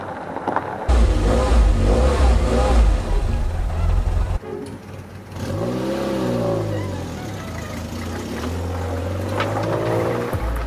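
A 1980s Renault Super 5 Baccara city car, about 850 kg with 90 horsepower, pulls away nearby, its engine rising through the gears in loud, climbing revs after an initial steady roar.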